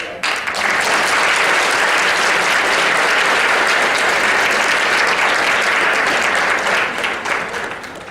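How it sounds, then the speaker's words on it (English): Audience at a parent-support event breaks into sustained, loud applause, dense clapping that holds steady for several seconds before tapering off near the end. "we have to give another big round of applause to Angela for sharing her story"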